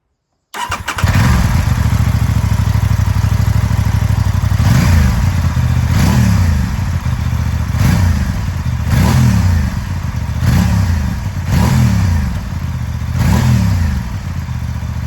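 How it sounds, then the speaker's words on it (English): A 2026 Aprilia Tuono 660 Factory motorcycle with a Motobox USA Sport Plus exhaust starts from cold, then idles loudly and close up with a steady rumble, broken by about six short, sharp throttle blips at regular intervals. "cold start with the Motobox USA Sport Plus on a 2026 Tuono Factory 660"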